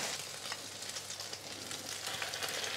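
Slices of French toast fry in a pan, giving a steady, close sizzle with a soft crackle throughout and no voices.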